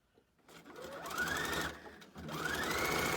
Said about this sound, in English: So let's put it into the sewing machine.